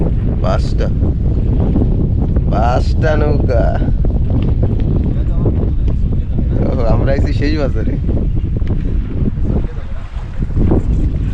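Wind rushes over a boat anchored at sea, a steady roar beneath someone talking.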